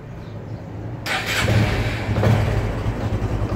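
A Honda Biz 125 motorcycle engine, cold after an oil change, starts after a quiet moment with a sudden burst and then settles into a steady mid-pitched running rumble, close and alone.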